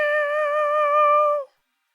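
A human voice imitating a cat's meow, one sustained, steady tonal call that cuts off abruptly, heard alone.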